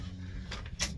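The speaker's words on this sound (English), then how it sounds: "Forgot to close the door to the arena." Door to a snowy horse arena being pulled shut, a short scraping slide followed by a sharper knock of it closing, heard nearby over low background rumble.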